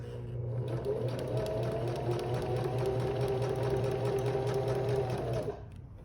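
A sewing machine back-stitches a zipper pouch, a close, steady mechanical whir with rapid needle clatter that runs for about five seconds and then stops abruptly.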